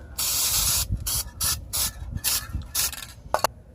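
Spray clear coat hisses from an aerosol can onto a Rancho RS9000XL shock on a 2017 Ford F450, in a quick series of close, loud bursts separated by short pauses.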